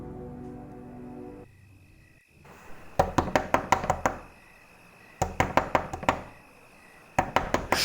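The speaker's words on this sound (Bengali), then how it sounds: "দরজা ধাক্কানোর আওয়াজে ঘুম ভেঙে ধড়মড়িয়ে উঠে বসে" Someone bangs loudly on a door at night in three bursts of rapid, heavy knocks, coming after a quiet stretch with a low hum and crickets.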